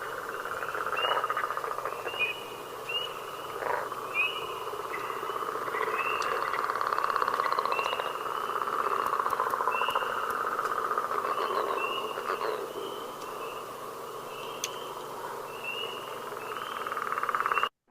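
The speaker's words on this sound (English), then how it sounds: "But that deep grunt, snore-like sound, that's the northern leopard frog." Northern leopard frog giving deep snore-like grunts at a New Brunswick wetland, with spring peepers calling in the background; a dense, steady chorus of repeated calls and high peeps runs the whole time at moderate loudness.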